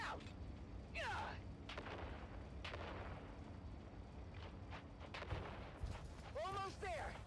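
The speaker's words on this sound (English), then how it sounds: "On 3, we grenade and move! 3, 2, grenades out!" Grenade explosions and gunfire in the video game Dune Awakening, with low rumbling blasts, scattered sharp reports and shouting voices over the combat.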